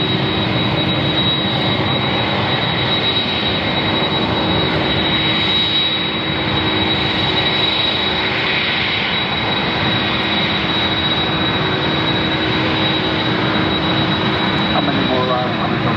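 A heavy jet airliner approaches to land at Ontario International Airport at night, a loud continuous engine roar with a steady whine filling the whole stretch, while radio voices from the control tower are faintly present.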